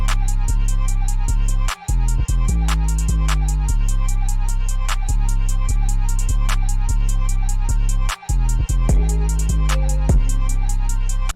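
Rage beat built in Ableton Live, with loud continuous distorted synth chords over heavy booming bass and rapid hi-hats, briefly cutting out twice, no voices.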